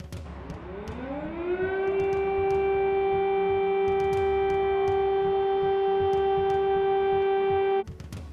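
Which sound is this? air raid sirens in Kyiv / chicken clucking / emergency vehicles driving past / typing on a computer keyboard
air raid sirens in Kyiv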